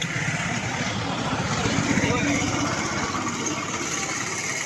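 A boat engine drones steadily at Maithon dam, a low, even rumble running throughout with voices present.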